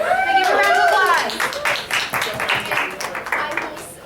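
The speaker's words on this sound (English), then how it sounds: "Can I give a round of applause?" An audience at an impromptu speech contest breaks into applause, bursts of scattered claps under loud cheering and voices, fading toward the end.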